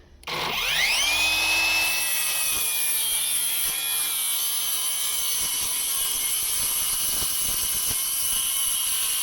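A GTM CS18/165BL cordless brushless circular saw spins up and cuts through a board, a rising high whine settling into a loud, sustained cutting tone with crackling rasps from the material, close up and without speech.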